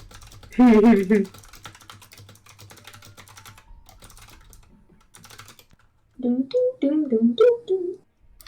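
Rapid clicking of computer keyboard keys in the middle stretch, moderately close, with voices talking before and after it.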